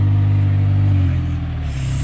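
A supercar's V10 engine revs loudly up close at a London car show, a deep droning rumble that rises and then settles, with no voices over it.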